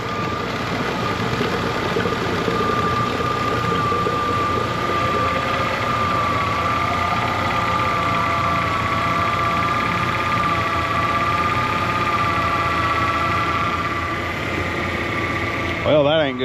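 A Ford Ranger engine with a swapped cylinder head runs at a steady idle, a continuous mid-pitched drone with a faint whine held evenly throughout.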